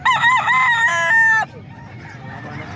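Young gamefowl stags, about seven months old, crowing loudly and close by, one long harmonic crow lasting over a second, then fading into quieter background farm noise with faint clucking.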